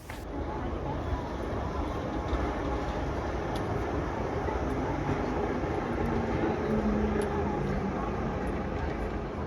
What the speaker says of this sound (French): Notre rame du Pilatus, à peine arrivée, fait le plein de voyageurs et repart rapidement au sommet.